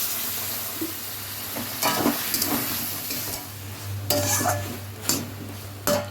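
Shrimp masala stir-fries in a pan with a constant sizzle beneath it. A utensil scrapes and clinks against the metal in irregular bursts, some of them sharp and loud. No one speaks.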